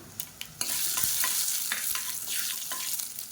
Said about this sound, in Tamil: கடுகு வெடிக்க ஆரம்பிக்குது